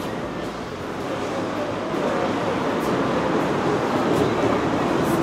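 Steady rumbling interior noise of a moving passenger train, a broad continuous roar with slight swells, close and fairly loud, no talk over it.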